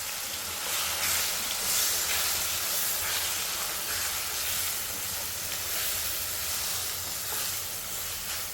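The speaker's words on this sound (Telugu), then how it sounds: "సో ఇప్పుడు కొద్దిగా వేగనిద్దాము" Chana dal, urad dal, curry leaves and dried red chilies frying in hot oil, a steady, even sizzle and hiss that runs throughout at moderate volume with no talking.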